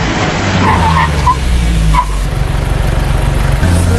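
A van skids hard with loud, sustained tire squeal lasting several seconds, close and dominant over a low engine rumble.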